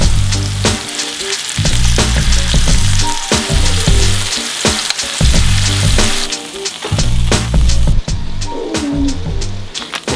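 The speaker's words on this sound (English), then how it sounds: "it's getting a nice little sizzle on it" Chicken pieces for tikka masala fry in a pan with a loud, close, continuous sizzle, crackling and spattering along with some stirring, while music plays under it.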